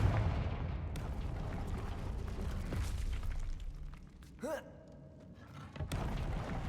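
A Confringo blasting curse goes off in Hogwarts Legacy: a booming explosive burst with a whooshing magical swell, set among rumbling game effects and a few sharp impacts.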